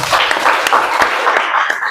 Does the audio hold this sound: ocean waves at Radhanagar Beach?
no